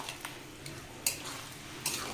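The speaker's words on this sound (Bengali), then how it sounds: "মশলাটা খুব ভালো করে মিশিয়ে নেব।" Spices being stirred into a hot prawn and mixed-vegetable curry with garam masala, a spoon scraping the pan in a few soft, scattered strokes over a quiet background hiss.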